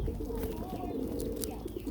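Several domestic pigeons coo low and continuously while feeding nearby, soft rolling calls mixed with light rustling and clicks, and a voice faintly underneath.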